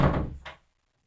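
A single muffled thunk as a door swings shut, with a faint second knock just after, then silence.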